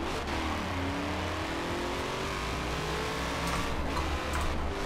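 C8 Corvette engine revving in Forza Horizon 4 during wheel-and-pedal drifting gameplay, a loud continuous drone with rising and falling pitch sweeps and no talk.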